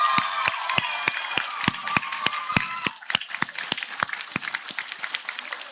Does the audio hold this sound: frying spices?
no